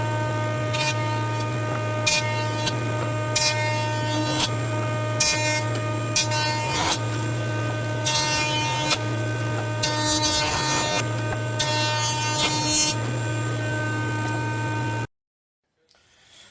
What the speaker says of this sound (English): So now we've got our sides planed down.